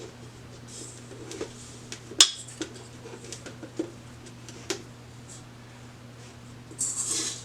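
Dry pollen patty mix is tipped out into a mixing bowl, a few soft knocks and rustling scrapes against the bowl with one sharper clank, close and fairly quiet.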